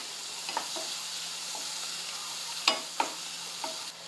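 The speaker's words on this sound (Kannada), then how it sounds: "ಉಪ್ಪು ಹಾಕೋದ್ರಿಂದ ಉಳ್ಳಾಗಡ್ಡಿ ಬೇಗ ಫ್ರೈ ಆಗ್ತಾವ್ರಿ." Onions fry in a pan with turmeric and salt, a steady soft sizzle broken by a few sharp clicks and scrapes of stirring, with no speech.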